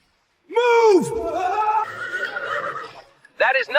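A loud, close horse whinny rises and trails off in a shaky descending neigh, followed by a short second snort-like burst.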